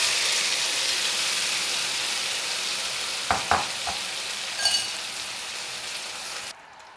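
Steady frying hiss from mustard oil in a wok, continuous and fairly loud, broken by a few sharp clinks of stirring near the middle before it cuts off near the end.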